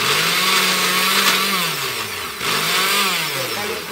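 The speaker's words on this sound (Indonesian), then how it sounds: "sekarang kita blender chutney-nya." A kitchen blender whirs loudly as it blends mint chutney, its motor pitch dipping and rising as the load shifts.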